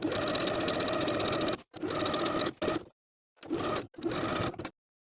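A sewing machine edge stitches along the inner folded edge of bias tape on a vintage apron, running in four steady bursts with short pauses between them, close and loud with no talking.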